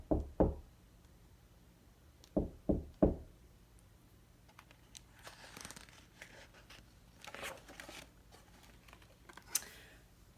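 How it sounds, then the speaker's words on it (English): Sharp knocks on a door, a pair of raps, a pause, then three more close together, followed by faint rustling and shuffling. "I rode my bike to his house, and I knocked on the door."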